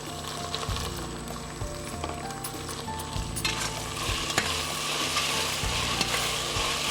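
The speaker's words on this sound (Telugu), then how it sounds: "కొత్తిమీర, పుదీనా, కరివేపాకు ఇవి 3 కూడా తొందరగానే వేగిపోతాయి" Coriander, mint and curry leaves fry in a pan, giving a continuous crackling sizzle close up, with some stirring clicks and a brief tonal hum in the background, and no speech.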